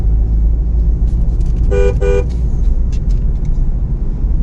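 A parked car's horn outside a store gives two quick toots over steady rumbling traffic and outdoor background noise.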